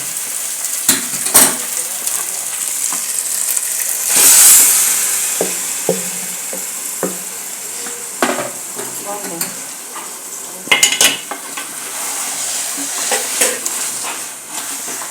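Beef tongue frying in a pan for a Goan roast, a constant loud sizzle broken by sharp scrapes and clinks of a utensil stirring, with a brief burst of steam partway through.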